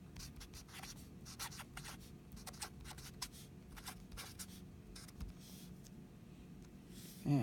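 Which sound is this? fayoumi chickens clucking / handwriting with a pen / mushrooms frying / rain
handwriting with a pen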